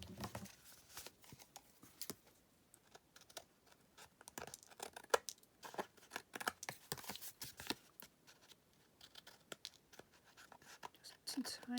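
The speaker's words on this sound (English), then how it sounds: "So all I'm going to do now is trim those parts off." Paper card being trimmed, with quick scratchy cutting and rustling of paper in irregular bursts, close and faint, no talking.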